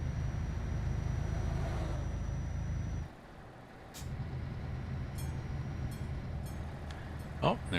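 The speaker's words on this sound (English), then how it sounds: "there's a train coming in behind me" A train rumbles past behind a truck in Euro Truck Simulator 2, a steady low roar that cuts out briefly and returns, with a faint high whine and a sharp hiss near the end, as if from air brakes.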